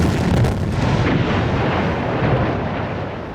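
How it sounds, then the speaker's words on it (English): Heavy artillery fire rumbles in a dense, continuous roar of booms that blend into one loud, sustained wall of sound, slowly fading slightly over a few seconds. "The killer app of science had given the West a truly lethal weapon: accurate artillery."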